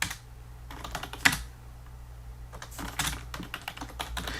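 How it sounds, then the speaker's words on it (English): Computer keyboard clicking close by as a book title is typed in, with short quick bursts of keystrokes separated by brief pauses, no voices. "So we're gonna type in the title again."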